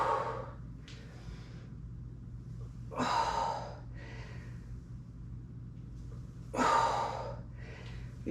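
Heavy, rhythmic exhalations from a pregnant woman doing a strength workout, with two loud, breathy gusts and softer breaths between, close to the mic over a low steady hum.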